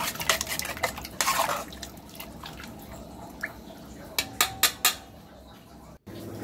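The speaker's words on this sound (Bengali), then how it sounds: "একটা চামচ নিয়ে ভালো করে নেড়ে দেবো।" A spoon stirs food with mustard oil in a pot, making a run of metallic clinks and scrapes, then several sharp separate taps against the rim, close and fairly quiet.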